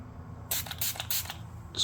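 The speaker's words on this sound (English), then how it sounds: "spray it on our towel," Fingerboard cleaner sprayed onto a towel while cleaning a Harley Benton DC-600 VI guitar neck: a few quick close hissing spritzes in rapid succession, then a final short burst near the end, with no talking.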